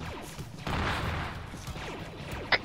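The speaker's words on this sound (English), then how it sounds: "The field guns at north are firing again at 1-1 and 1-3." Field guns in Arma 3 thud in a muffled, distant barrage, a rumbling burst followed by a sharp nearer crack, mixed with faint radio chatter.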